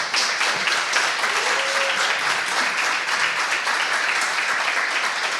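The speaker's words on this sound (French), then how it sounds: "on peut les applaudir" An audience at a conference talk on creativity and AI applauds the speakers, a steady, full round of clapping that carries evenly through the whole stretch with a faint voice briefly under it.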